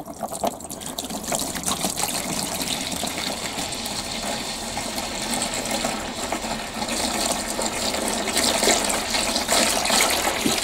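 Liquid latex floor screed gushes steadily from a bottle into a bucket, a continuous loud splashing pour that lasts throughout without any talk.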